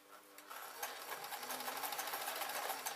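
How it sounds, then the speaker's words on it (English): Sewing machine stitching through a bear hat project, a steady fast mechanical whir with rapid needle clatter running continuously from start to finish, close by. "I can keep sewing, and when I've sewn through I'll just sew"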